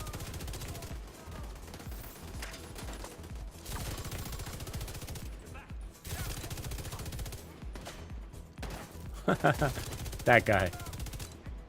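Gunfire in The Division 2 video game, rattling bursts of shots near and far under someone talking, with a few louder sharp cracks toward the end.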